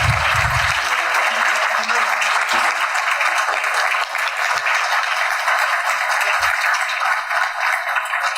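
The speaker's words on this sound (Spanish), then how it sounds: "Brindemos un fuerte aplauso." Sustained audience applause fills a hall at a Spanish-language book presentation after a call to honour a doctor with an award, steady and dense with a few low thumps, continuing without talk throughout.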